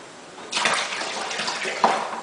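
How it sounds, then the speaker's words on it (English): Aquarium water rushes through a siphon hose during a water change, starting abruptly and then gurgling and splashing steadily at close range, with a brief louder slosh near the end. "you just suck on this end, and it'll get the siphon started"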